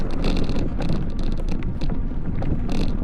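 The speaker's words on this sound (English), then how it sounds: "Battery still makes a little bit of noise" Fiido T1 Pro e-bike ridden off-road, its loose battery giving a continuous rattle and clatter amid steady rolling and wind noise, with no talking.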